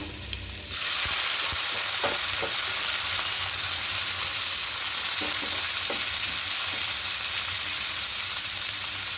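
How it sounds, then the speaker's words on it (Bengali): Loud, steady sizzling of vegetables frying in a hot pan with garlic for egg chow mein, with occasional light clinks of stirring and no talking. "সবজিগুলো একটু হালকা করে একটু ভেজে নেব"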